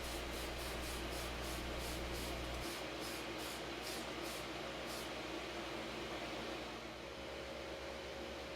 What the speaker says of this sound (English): Now at my paint booth, I will coat the body with some Tamiya Fine primer.